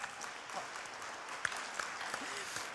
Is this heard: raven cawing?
no